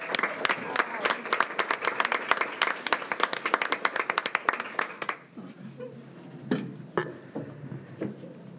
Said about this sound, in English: if we can stand up and give her a round of applause